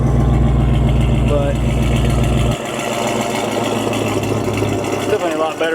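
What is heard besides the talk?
1979 Jeep Cherokee Chief engine idling through new exhaust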